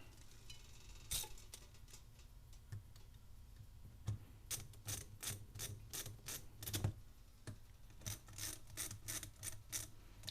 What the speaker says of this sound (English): Put the new screws on here.